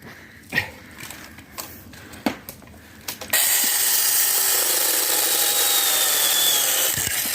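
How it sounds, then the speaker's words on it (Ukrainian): Several scattered clicks and taps, then a power saw kicks in and runs loud and steady without pause. "що ти думаєш про цю пилку?"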